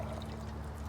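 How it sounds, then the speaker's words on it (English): Water pours steadily into a container for a homemade lava lamp, a continuous close splashing stream heard briefly and alone. "we're going to want to fill our container about a third of the way full with water. So I'm just gonna pour this"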